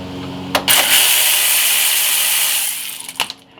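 Cordless impact gun on a 2008-2012 Chevy Malibu brake hose nut during hub bearing work, a loud continuous whirring rattle of about two seconds bracketed by sharp clicks and clunks, with no talk.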